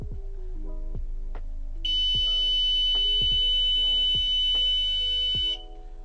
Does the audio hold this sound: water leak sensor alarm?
yes